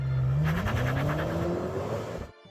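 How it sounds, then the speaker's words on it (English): A V8-powered BMW M5 sedan accelerates hard, its engine note climbing steadily in pitch through a gear change with a loud, close roar before cutting off abruptly at the end. "this one, the V8 powered M5, this is the real deal. It accelerates brutally"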